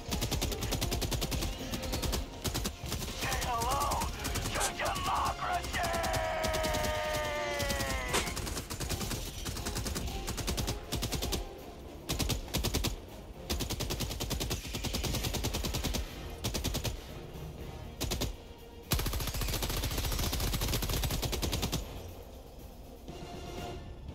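Sentry turrets in Helldivers 2 firing at swarming bugs, long sustained automatic bursts with brief breaks, mixed with creature screeches and the clatter of battle.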